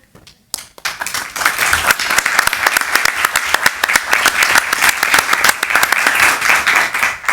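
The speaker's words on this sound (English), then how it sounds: "maybe we could give them a round of applause" After a short quiet moment, a round of applause breaks out at a city council meeting and continues loud and steady from a room full of clapping people.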